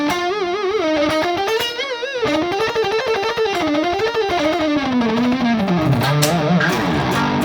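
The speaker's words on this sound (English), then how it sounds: "We've got a main lead sound as well." Overdriven electric guitar plays a singing lead line with wide vibrato and slow bends, loud and sustained throughout.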